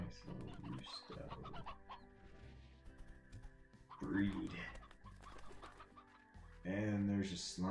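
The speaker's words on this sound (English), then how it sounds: "We got a nice little rooster" A rooster in a ranching video game clucks and crows in repeated short, bright calls over background game music, and a voice talks between the calls.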